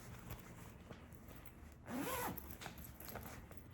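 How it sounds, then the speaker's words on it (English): A small zipper pull on a fabric project bag is tugged once, a short close scratchy zip in quiet surroundings with faint handling noise around it. "Cute little zipper pull"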